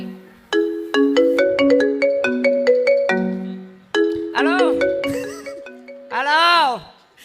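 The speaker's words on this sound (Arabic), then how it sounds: "تلفون ابي." A phone ringtone plays a bright, repeating electronic melody of quick stepped tones, loud and close, then breaks into rising and falling warbles near the end, with no one speaking over it.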